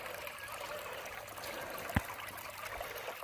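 Creek water trickles and flows through a sluice outdoors, a soft continuous babble with one brief splash or knock midway.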